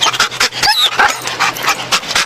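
A police drug-sniffing dog whimpers, pants and yips at close range in quick, irregular bursts, excited and active, with snuffling breaths between.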